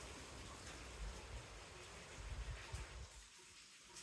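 Steady hiss of rain and gusting wind fills a violent thunderstorm, faint and continuous, with occasional low buffeting thumps from wind on the microphone.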